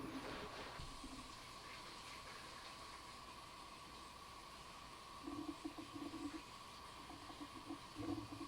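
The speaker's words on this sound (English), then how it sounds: "So I'm gonna go run it under some water, see if I can get it clean." Tap water runs steadily while a fountain pen is rinsed clean, a continuous low gushing hiss with a few brief splashes and rattles as the stream is disturbed.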